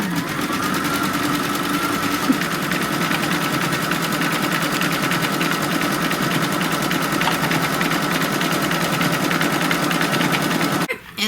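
An embroidery machine stitches the final stitch-out of a cinch sack, a fast, steady mechanical needle rattle running continuously and close, stopping abruptly at the very end.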